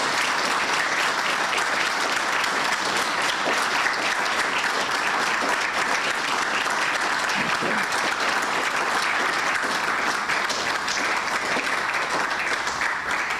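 Sustained standing applause from a ceremony audience at an investiture for a global president, thick continuous clapping at a steady, loud level throughout.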